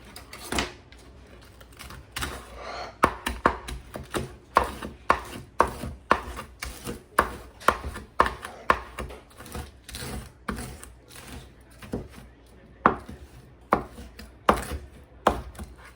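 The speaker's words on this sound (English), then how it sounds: "Quickly chop up this bacon." A knife chops cooked bacon on a cutting board, giving a long run of sharp, close knocks in irregular bursts with brief pauses, no voices over it.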